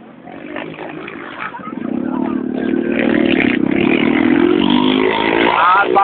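Motocross motorcycle engine at a race in Itagi, Bahia, building from a low rumble into a loud, sustained, rising roar that holds steady, with voices chattering over it.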